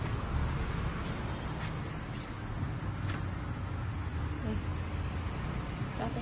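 Crickets in boxes on a cricket farm make a dense, continuous high chirping, loud and close, with a faint low background hum and no speech.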